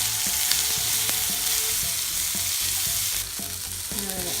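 Half-inch-thick onion rings sizzle steadily in a hot pan, a loud continuous fry with faint utensil taps and stirring scrapes, the hiss easing slightly near the end.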